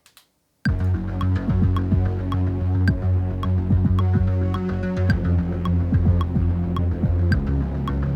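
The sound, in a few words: remix section with bass and kick drum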